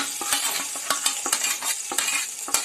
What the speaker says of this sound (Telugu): ఆ చికెన్ వేస్తున్నానండి